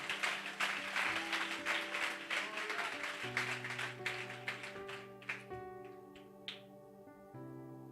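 A church congregation claps during a worship service, with a ragged burst of applause that gradually tapers off. Sustained keyboard chords play beneath and continue after the clapping fades.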